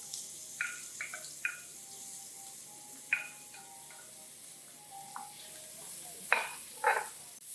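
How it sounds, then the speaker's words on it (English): Onions, shallots, garlic and celery hitting hot oil in a pan, a faint steady sizzle broken by a few sharp scrapes and clinks of a utensil stirring against the pan. "my pan is pretty hot already. So then you're gonna add your onions and shallots and garlic. And celery as well."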